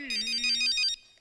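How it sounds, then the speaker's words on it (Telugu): A mobile phone ringtone plays a short, bright, loud melodic burst indoors and then cuts off abruptly. "ఈ టైంలో ఫోన్ ఏంటి?"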